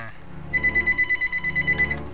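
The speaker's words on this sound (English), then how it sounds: "There goes the phone." Telephone ringing in the video game Destroy All Humans!, a rapid electronic trill of bright pulses starting after a brief pause and continuing steadily for under two seconds.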